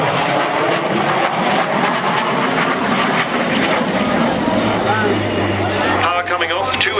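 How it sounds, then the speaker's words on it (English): At the 2009 Sanicole airshow in Belgium, a twin-engine jet with two General Electric engines roars loudly and continuously as its engine note shifts, while an announcer talks over the noise. "Power coming off, 2 engines on this aircraft, 2 General Electric."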